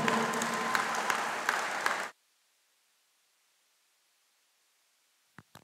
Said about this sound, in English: I want you, the graduates, to clap your parents, to clap your well-wishers.